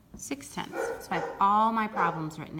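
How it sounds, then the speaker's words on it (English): A pet dog shut in a closed room barks and yips several times in short bursts, muffled and somewhat distant, under a woman's ongoing speech. "I'm not sure if you can hear my dog barking"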